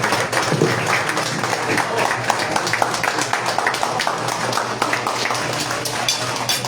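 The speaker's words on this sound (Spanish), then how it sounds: "Agradezcamos esta espléndida charla con un fuerte aplauso para Guillermo Vega Zaragoza." Audience applause after a talk about the bookshops of Coyoacán, a sustained, dense roar of many hands clapping close to the recorder, steady throughout with no pauses.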